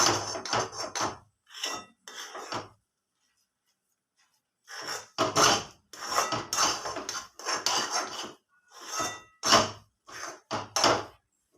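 A spoon scrapes and clanks against a pan while upma is mixed, irregular bursts of close metallic clatter separated by short silent pauses.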